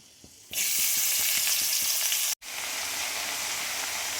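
Radish greens hit hot oil in a wok tempered with bay leaf and nigella seeds, setting off a sudden loud, steady sizzle after a few light taps, with a brief break before the frying resumes.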